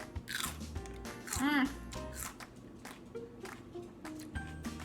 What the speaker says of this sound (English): And it's got a great crunch to it. It snaps in half.